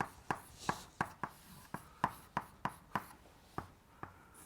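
Chalk or marker tapping and scratching across a board during a lecture, about a dozen sharp strokes in an uneven rhythm, close and clear with no voices over them.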